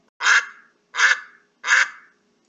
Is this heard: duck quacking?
yes